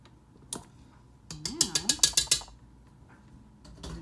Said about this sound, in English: And just going to give that a quick mix in.